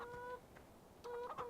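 Chickens on a Farming Simulator 17 farm give a few soft, nasal clucks and short calls in two clusters, fairly quiet over a steady game background hum.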